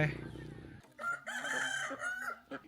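A rooster crows loudly and close by in a rural village in Xieng Khouang, Laos, with one drawn-out call following a brief rustle.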